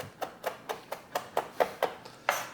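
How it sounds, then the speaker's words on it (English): A knife chops garlic on a cutting board in quick, fairly even strokes, about nine sharp taps in under three seconds, close and clear with no talking. "I wonder how fast I can chop this garlic."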